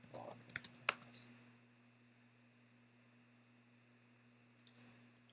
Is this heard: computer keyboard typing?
yes